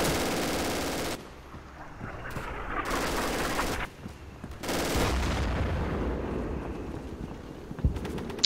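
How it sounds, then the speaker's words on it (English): A flak gun firing from a flak panzer in the Darkest Hour video game, heard as loud bursts of rapid automatic fire separated by short pauses, with sharper distant shots near the end. "It's a flak panzer, so it's a flak gun."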